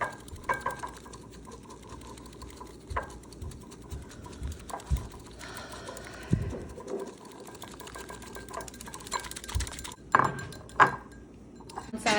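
A whisk stirs a chocolate oatmeal drink in a cup, making a fast, close, rattling whir with light clinks against the container that continues throughout without speech.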